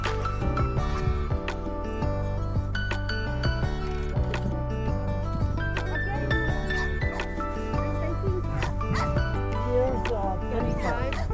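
Many shelter dogs on an open outdoor plot barking, yipping and whimpering together in a loud, overlapping chorus that continues throughout.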